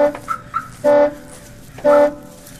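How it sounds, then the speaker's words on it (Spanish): A Tesla's car alarm blaring in a horror video game, two loud, sustained honking blasts about a second apart, with fainter chirping tones between them. "Tengo que desactivar la alarma."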